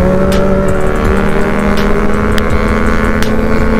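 A Kawasaki Z900 or KTM Duke 250 motorcycle engine roars steadily and loudly at high revs during a road race, with no talk over it.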